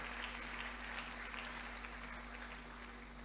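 A church congregation gives sustained applause, a dense, even patter of many hands clapping heard at a distance over a low electrical hum.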